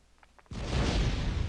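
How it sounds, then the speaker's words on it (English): A cluster bomb goes off in Star Wars Galaxies after a brief quiet lead-in, bursting into a loud, broad, sustained blast that rumbles on to the end. "Have a cluster bomb."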